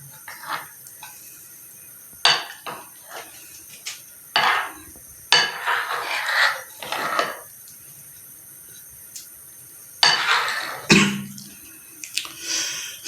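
A spoon or whisk scrapes and clinks against a bowl while eggless tea cake batter with lemon juice is folded gently, in irregular separate bursts with quiet gaps between them.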